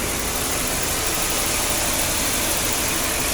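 A 1994 Volvo 960 GL 2.3 non-turbo automatic idles in the engine bay with its extra fan running, a loud, close, continuous engine drone and fan rush without pause.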